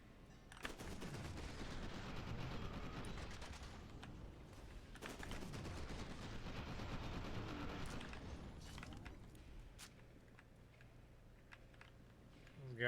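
Rapid bursts of SMG fire in F.E.A.R. 2: Project Origin, two long rattling volleys at moderate distance with sharp shots and a quieter tail, a voice talking faintly beneath the combat.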